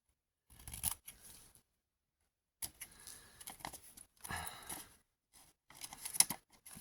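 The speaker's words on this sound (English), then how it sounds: "with the bottom, I just cut along the edge" Scissors snip through paper along the edge of a book page in four separate bursts of quick, crisp cuts with short silent gaps between them, close and quiet with no talking.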